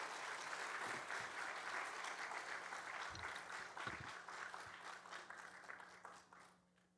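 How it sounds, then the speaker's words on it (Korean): A church congregation claps to welcome a visiting pastor at a Thanksgiving Sunday service, sustained applause that fades out near the end over a low steady hum. "우리 박수로 환영하겠습니다"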